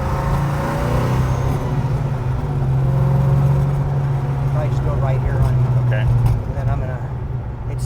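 A car engine idles and runs steadily under load during performance tuning, a continuous low drone with slight revving shifts while people talk over it throughout.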